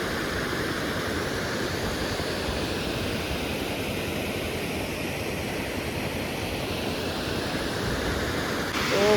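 A strong river runs near a bridge, its water making a loud, unbroken roar that stays level throughout.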